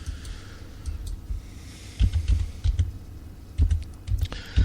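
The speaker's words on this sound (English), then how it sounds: "Let me, as you can hear, I'm typing." Keys clatter on a computer keyboard in irregular bursts of taps, close by, over a faint low hum.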